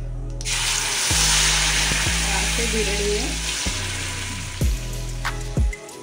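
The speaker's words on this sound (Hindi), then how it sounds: "इसमें हम लोग थोड़ा जीरा डालेंगे और ये तड़क जाएगा" Cumin seeds crackle in hot oil in a kadhai while a Hyderabadi paneer dish is being made. A steady, close sizzle carries scattered pops, with a few low knocks as the pan is stirred.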